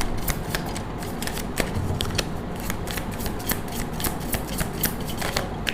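Tarot cards being shuffled and drawn from a deck, giving a steady run of close, crisp card flicks and snaps over a soft background hiss, with no talk.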